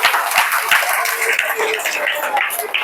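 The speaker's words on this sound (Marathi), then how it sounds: "टाळ्या तरी वाजवा येशूसाठी" A church audience at a sermon clapping for Jesus, a short stretch of scattered applause mixed with voices.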